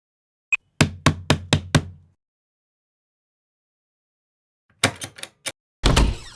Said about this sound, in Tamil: எதுக்குடி கதவை இப்படி தட்டுற?